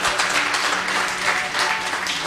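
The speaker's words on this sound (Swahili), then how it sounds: "Makofi mazuri." Applause from a congregation at a church youth Sunday service, a dense, steady wash of many clapping hands at moderate volume with no clear voices.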